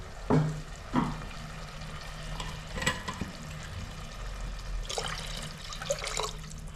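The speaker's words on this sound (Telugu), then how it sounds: "కొన్ని నీళ్ళు పోసుకుందాం." Water is poured from close by into a pan of meal maker (soya chunk) curry, heard as splashing bursts and gurgles between quieter pauses; no speech.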